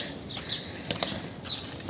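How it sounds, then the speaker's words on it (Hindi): A captured pigeon beats its wings in a few quick bursts as it tries to escape, close and fairly loud, with soft chirps in the background. "अब ये देखिए ये पकड़ा हुआ कबूतर है जो भाग रहा है"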